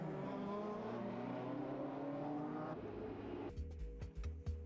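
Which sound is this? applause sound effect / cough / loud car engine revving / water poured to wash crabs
loud car engine revving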